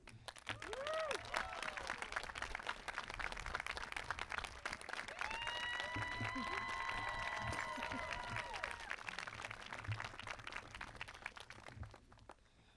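An audience at a college commencement cheers and applauds an honored faculty award recipient, with broadband clapping that stays steady for about twelve seconds and a few whistles rising above the crowd noise midway.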